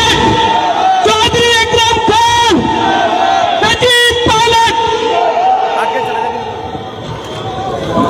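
A large crowd at a Congress party election rally in a village in Jagadhri constituency roars with loud chanting and shouting, voices rising and falling in bursts over a dense continuous hubbub.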